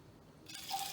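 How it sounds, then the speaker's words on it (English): Two shots of gin are poured into a cocktail shaker, a short liquid splash and trickle that begins after a brief quiet moment and stays soft. "adding 2 shots of gin to my shaker"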